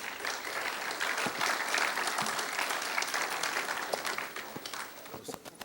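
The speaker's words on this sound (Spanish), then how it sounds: "un fuerte aplauso para el ingeniero Juan Pablo Valdivia" An audience of students and teachers at a SENATI technology talk gives an engineer a full round of applause. Many hands clap in a sustained wash that sounds close and steady, with faint voices mixed in, then thins toward the end.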